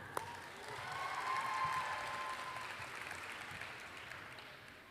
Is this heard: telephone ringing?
no